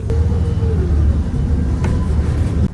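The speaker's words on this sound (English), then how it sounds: "I got on the bus at 12:10." Interior of a city bus on a ride across Wuhan, a steady low engine rumble and road noise throughout, with a brief higher whine and a faint clunk near the end.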